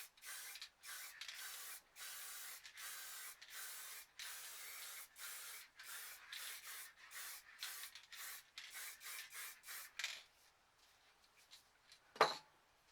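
Green spray paint applied in a light coat from an aerosol can: a rapid series of short, close hissing bursts with brief gaps, followed by a quiet pause and a single small knock.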